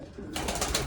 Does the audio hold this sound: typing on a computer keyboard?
no